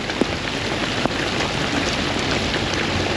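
Rainwater pouring off every slope and washing out a flooded canyon campsite in Colorado, a loud, steady wash of splashing and pattering water with a couple of sharper drips near the start and no voices.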